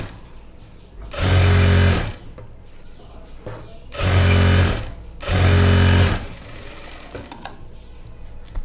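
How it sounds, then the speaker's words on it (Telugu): A sewing machine stitches the folded lower hem of a blouse in three loud, steady runs of about a second each, separated by short pauses with faint handling noise. "దీన్ని కింది వైపుకి ఫోల్డ్ చేసి కుట్టు వేసేసుకోండి"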